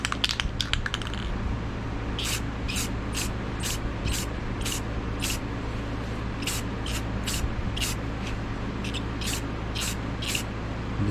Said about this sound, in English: And I'm really starting to like this spray.